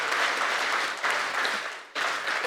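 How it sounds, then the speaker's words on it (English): A conference audience applauds Nigeria's President in sustained bursts of clapping that swell, briefly dip twice, and resume, moderately loud and filling the hall. "Please, can we put our hands together again for Mr."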